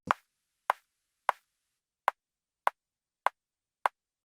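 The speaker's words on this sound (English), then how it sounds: "now we're just getting that little like click" Seven short, dry kick drum clicks with no gate, evenly spaced about half a second apart with a brief gap midway, each cut off sharply with no tail.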